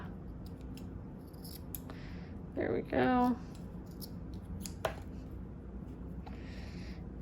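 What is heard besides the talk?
scissors cutting paper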